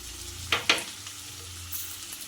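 Onion, green chili, peas and carrot sizzle in oil in a kadai, with a steady close frying hiss and two sharp scraping strokes of the spoon near the start.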